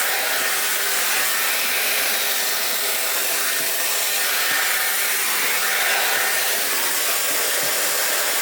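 Dyson hair dryer blowing steadily while short hair is brushed, a loud continuous airy whoosh with a faint hum and soft brush rustles, close by and without speech.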